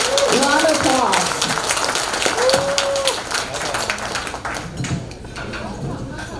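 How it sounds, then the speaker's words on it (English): An audience claps at a seventh-anniversary celebration of a Carolinas Chinese business association, a dense steady patter that fades slightly toward the end. A voice speaks over the clapping. "Round of applause."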